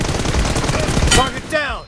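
Rapid automatic gunfire bursts from a mobile shooter game played on an iPhone in team deathmatch, loud and dense, ending with a ricochet-like whine.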